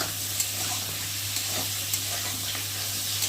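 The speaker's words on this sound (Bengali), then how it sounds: "সামান্য হলুদ দেবো, দিয়ে কলাটা ভালো করে ভেজে নেব।" Raw green banana fries with turmeric in a pan, giving a continuous close sizzle and occasional light stirring taps, with no talk.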